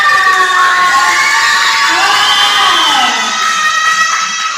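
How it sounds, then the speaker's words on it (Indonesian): Schoolchildren at an elementary school debate contest in Utan Kayu Utara shout and cheer loudly together as a sustained, high-pitched chorus, with little distinct clapping. "Tepuk tangan dulu semuanya"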